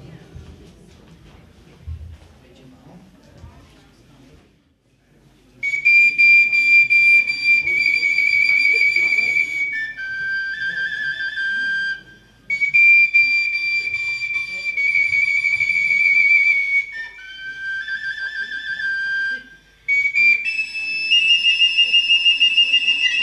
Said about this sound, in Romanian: Solo fluier.